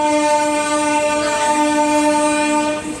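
Train at Jabalpur station sounds a loud, sustained horn, a steady multi-tone blare held for nearly three seconds before tapering off, close and dominant over faint rail rumble.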